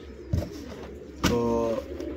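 A pigeon coos nearby in a short, low burbling call, preceded by a few soft rustles and thumps.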